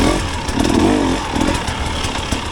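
A 2024 KTM 300XC-W two-stroke dirt bike engine blips and revs up close in short bursts, a raspy, crackling note that rises and falls over a couple of seconds.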